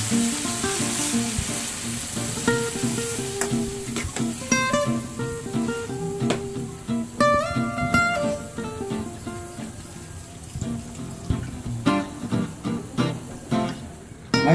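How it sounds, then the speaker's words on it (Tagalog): Continuous crackling sizzle from a hot pan as sweet and sour sauce with pineapple juice comes to a boil, with loud steady bubbling and occasional clinks of a utensil stirring, close up. "kumukulo na"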